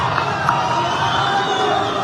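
Crowd cheering and shouting at a political rally in Vijayawada, a dense continuous roar of voices and whoops with no distinct applause beats, steady and fairly loud.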